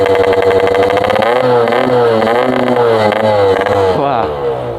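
A Yamaha RX King two-stroke motorcycle fitted with a Packing Power PK2 exhaust revs up and down loudly at close range, its engine note rising and falling in repeated sweeps, with a voice briefly audible.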